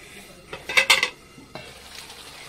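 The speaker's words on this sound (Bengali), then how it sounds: "এবার ঢাকা দিয়ে দেবো" A lid goes onto a cooking pot of fish jhal chochchori, a short burst of metallic clatter and clinks near the middle, followed by quieter kitchen sounds.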